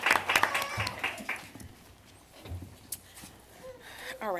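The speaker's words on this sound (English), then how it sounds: "a round of applause for all our recipients" At a school board meeting, a small group gives a short burst of scattered clapping for award recipients, fading quickly while a few voices talk quietly in the room.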